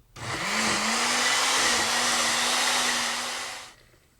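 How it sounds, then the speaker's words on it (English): A blender purees salsa with garlic cloves, a steady loud whirring roar that starts abruptly, holds for over three seconds and cuts off, close and without talk. "blend it until it's a smooth puree"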